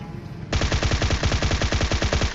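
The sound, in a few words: machine gun fire in video game PUBG Mobile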